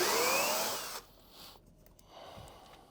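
A power drill backs a screw out of a wooden post, a short whining whir that stops abruptly, followed by faint handling noises.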